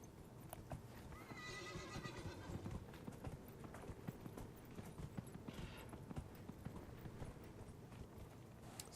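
A horse mount in Dragon Age: Inquisition trots with steady clip-clopping hooves and lets out a clear whinny early on, then a second fainter neigh, all fairly quiet.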